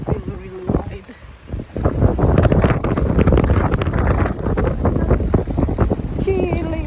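Strong wind blows across a Lake Erie beach with a wide exposed sandbar, buffeting the microphone in loud, gusty rumbles that build and hold, with a person talking through it.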